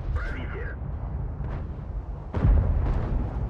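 A T-62A tank cannon fires at an IS-7 in World of Tanks: one loud, heavy boom lands near the end over steady rumbling battle ambience, with a fainter thud earlier.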